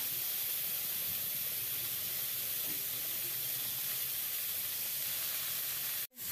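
Cauliflower, potato and bori sizzle in a pan as one continuous, even hiss, fairly soft, that cuts out briefly near the end.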